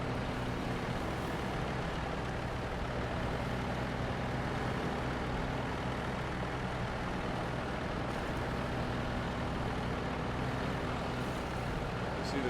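Heavy truck engine in Snow Runner labors steadily uphill on a mountain, hauling a heavily loaded trailer, a continuous low rumbling drone that stays loud and even throughout with no clear breaks.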